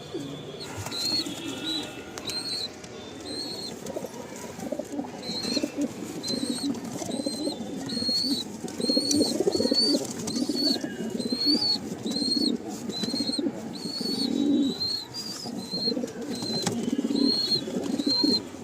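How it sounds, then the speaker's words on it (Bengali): A breeding pair of pigeons is released, wings flapping in bursts while soft repeated coos and chirps carry over a busy loft background, fairly close. "আসুন পায়রা ছেড়ে দেখায়"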